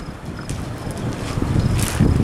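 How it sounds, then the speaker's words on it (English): Strong monsoon storm wind roars steadily and close, buffeting the microphone with low rumbling gusts that build toward the end, with no talk. "Wind blowing me around."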